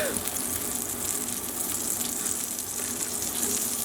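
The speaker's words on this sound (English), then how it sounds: "we're going to heat up our pan and melt the butter" Butter melting and sizzling in a heated pan, a constant broad frying hiss, fairly loud and even throughout.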